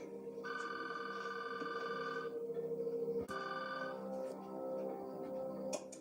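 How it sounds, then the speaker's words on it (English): A telephone rings in a tense crime drama scene, a steady electronic trilling tone sounding for about two seconds and then again, fairly clear, with faint room noise around it. "Just answer the phone."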